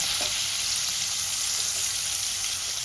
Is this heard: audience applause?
no